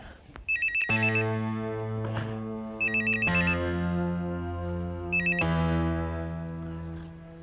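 A telephone ringtone plays in three repeated bursts of a bright melodic ring, loud and close, with no talking over it.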